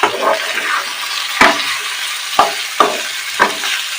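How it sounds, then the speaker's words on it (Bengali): Spice paste sautés with fish head in a pan for muri ghonto, a loud close sizzle broken by four sharp knocks of a spoon against the pan, no voices. "আমরা ভালো করে মাছের মাথা দিয়ে মশলাটাকে ভালো করে কষিয়ে নেব।"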